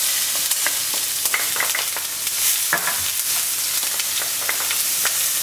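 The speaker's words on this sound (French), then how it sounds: "On va maintenant faire cuire l'oignon et l'ail." Onion and garlic sizzle steadily in a hot pan over high heat, a close continuous frying crackle with light scattered pops and occasional utensil scrapes from stirring, no voices.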